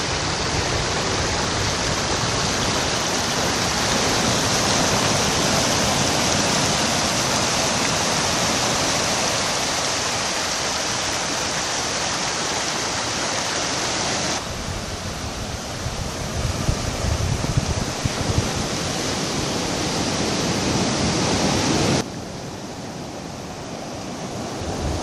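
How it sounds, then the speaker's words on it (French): Steady, loud rush of a small river flowing into the ocean mixed with crashing surf, a broad continuous roar with slight shifts in intensity, at the Rivière des Galets mouth on Réunion. "Voilà la deuxième petite rivière qui se jette dans l'océan."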